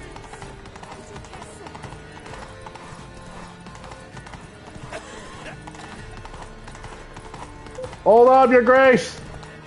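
Rapid clip-clopping horse hooves run steadily under a man's speech in The Witcher 3: Wild Hunt – Blood and Wine, then a loud horse whinny rises near the end.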